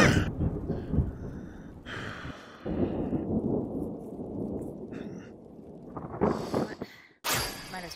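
A thunder attack effect in VRChat, heard as bursts of crackling, rumbling energy that swell and cut off several times, fairly loud and close, with breathy vocal sounds mixed in.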